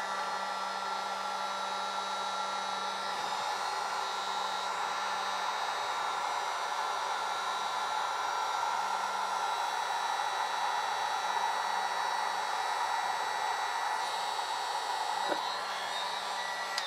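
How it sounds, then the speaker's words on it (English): A heat gun blows steadily as it heats a ZXNY LiFePO4 12V 100Ah battery, making a constant loud whooshing roar with a low hum that holds through the whole stretch, with no voices. "I'll be using the heat gun and heat this thing up"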